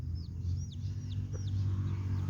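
A hen and her chicks raised free-range on a farm give high, thin chick peeps and soft calls over a steady low rumble of background noise, close by.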